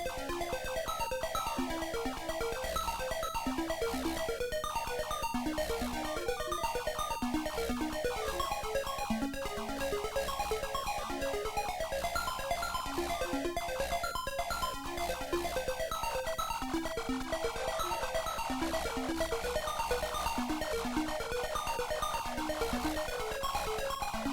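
Busy electronic shoot 'em up video game music from Capcom Classics Collection Vol. 1 plays on its own, with quick repeating synth note patterns over a steady driving pulse.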